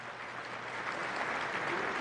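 Audience applauding in a conference hall, steady dense clapping from many hands that holds even and slightly builds over two seconds.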